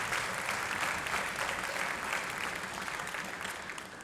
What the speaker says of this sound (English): let's give them a round of applause for all their support